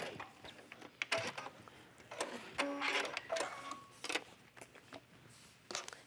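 A sewing machine stitches a pleat into a sports bra, working in short irregular bursts with clicks and handling noises between runs, fairly quiet and close with no talking.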